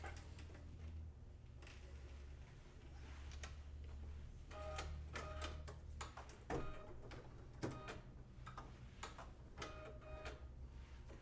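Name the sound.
embroidery machine stitching a Kimberbell design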